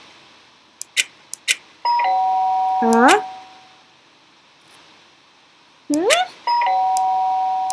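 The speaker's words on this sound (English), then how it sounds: "The sharp sound of the doorbell pierced my sleepy haze and pulled me back to the real world." A two-tone doorbell chimes twice in the game Danganronpa Trigger Happy Havoc, each ring a loud rising electronic ding with a sustained tone after it, separated by quiet stretches with brief clicks, and a voice briefly reacts.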